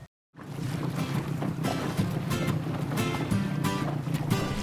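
Ocean waves and surf roll steadily, a broad continuous wash with repeated crashing surges and wind buffeting the microphone, with no talk.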